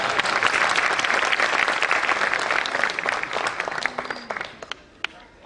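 Sustained applause from a congregation at a Jain sermon by Acharya Vidyasagar in Nemavar, dense clapping that thins out into a few scattered claps near the end.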